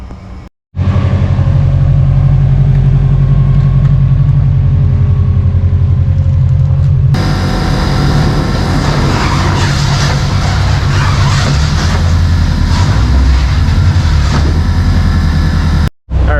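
Subaru Forester STI with a stock motor on 17 pounds of boost runs on a dyno: a loud, steady engine drone holds, then climbs sharply into a harder, brighter rev that sustains until cutting off abruptly.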